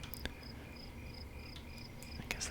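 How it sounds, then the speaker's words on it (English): Ambient crickets in the World of Warcraft video game, a steady pattern of short regular chirps over a soft background hiss, with a couple of faint clicks. "Right now we just got some crickets going on here."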